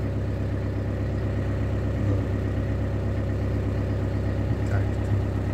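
A camper van engine idles steadily with a low, even rumble and a fine mechanical patter, running alone and unchanging throughout.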